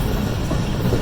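A passenger train runs through Lundu station in Pakistan, heard from on board as a loud, close, continuous rumble with rattling wheel noise, no voices.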